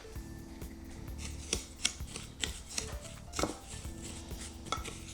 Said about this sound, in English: I'm gonna stir all that up